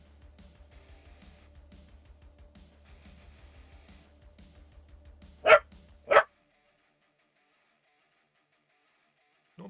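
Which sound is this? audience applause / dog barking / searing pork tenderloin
dog barking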